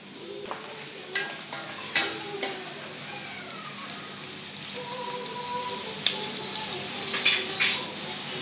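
Chopped onions, potatoes and green chilies fry in a pan with a steady sizzle, broken by intermittent stirring scrapes and light clinks of a utensil against the pan, close and fairly quiet, with no talking.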